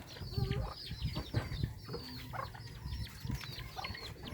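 Several free-ranging chickens cluck and murmur close by in a rural home setting, with overlapping short calls and a brief wing flutter, fairly quiet and without talk.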